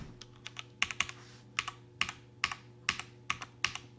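Keys clack on a Cherry MX Black mechanical keyboard in an irregular typing rhythm, close and crisp, with a faint steady hum beneath and no voices.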